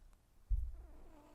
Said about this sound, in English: She's a Persian kitty.